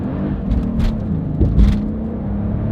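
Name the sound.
V12 Mercedes accelerating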